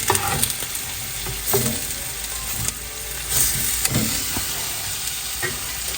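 Goat meat sizzles steadily in a pan, with a continuous frying hiss broken by several sharp scrapes and stirring knocks.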